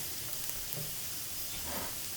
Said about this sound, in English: So once you see the garlic sizzling